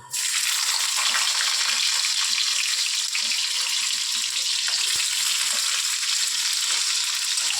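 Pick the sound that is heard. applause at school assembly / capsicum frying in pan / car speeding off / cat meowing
capsicum frying in pan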